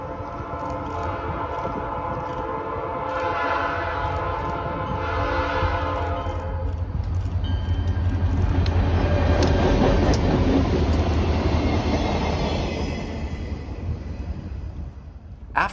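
A train horn blares in long tones as the train rolls past, its wheels rumbling and clattering loudly before fading slightly.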